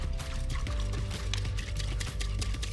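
Water poured over yeast and sugar in a bowl for ham and cheese croissant dough, a continuous dense pouring rush lasting a few seconds under loud low background music.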